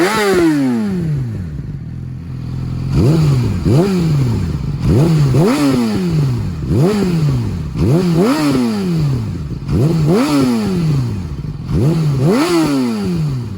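A 2020 Yamaha R6 with a LeoVince LV-10 slip-on exhaust is revved repeatedly. Loud, rhythmic blips rise sharply and fall back about eight times over an idling drone, with no talk.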